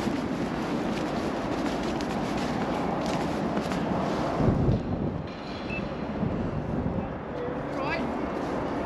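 Wind blowing outdoors near a forklift, a continuous rough buffeting rush that is loud and steady throughout, with gusts swelling midway and faint distant sounds behind it.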